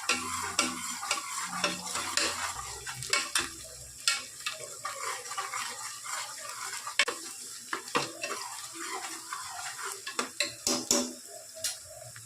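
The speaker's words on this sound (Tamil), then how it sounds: "ஒரு 5 பச்சை மிளகா போட்டு போட்டிருக்குறேங்க. நல்லா வதக்கி விட்டுறலாம்." Onions and five green chillies sautéing in a pan for chicken biryani, a close sizzle punctuated by frequent rhythmic scraping and knocking of a spatula stirring the mixture.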